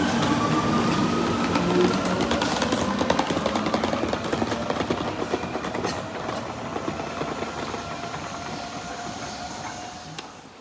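A train rumbles at Lido Central railway station in Rome Lido, with a loud, continuous clatter of wheels and carriages that stays steady and then eases slightly toward the end. No voices.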